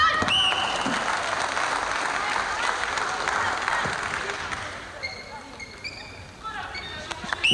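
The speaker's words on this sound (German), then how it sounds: "Beifall für diese Reaktion." Audience applause at a 1981 women's volleyball match between the Soviet Union and Romania, a steady wash of clapping from a large crowd that thins out toward the end, with a commentator talking over it.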